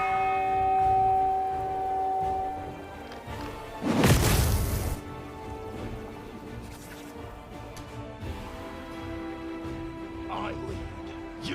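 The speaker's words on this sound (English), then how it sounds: "Time to hit that bell." A large bell is struck once in Pathfinder: Wrath of the Righteous, a loud clanging hit whose ring fades slowly under steady game music and ambience.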